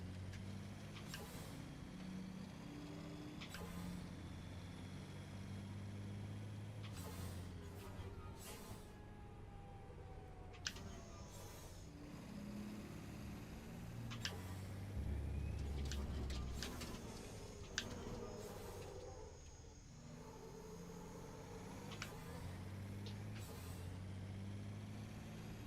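A racing car in the RaceRoom sim makes a truck-like air brake hiss, brief sharp bursts over a steady engine drone with several short clicks spread across the run.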